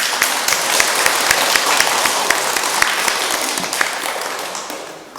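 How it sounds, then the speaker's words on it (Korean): Congregation clapping during a Korean church service, a dense, steady round of applause with sharp individual claps that carries on for several seconds before gradually fading. "함께 박수 부탁드립니다"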